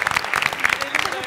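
Studio audience clapping at a Turkish family game show, a short burst of dense, fairly loud applause lasting about a second.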